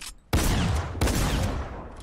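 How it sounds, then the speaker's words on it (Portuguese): Gunfire in Fortnite: two sharp, loud shots about two-thirds of a second apart, each trailing into a rattling decay, after a brief quiet start. "vou dar um tiro aqui para vocês verem um pouco mais de perto"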